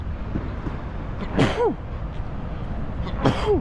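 Two quick sneezes a couple of seconds apart, fairly soft against a low background rumble.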